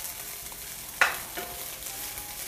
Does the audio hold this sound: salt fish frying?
yes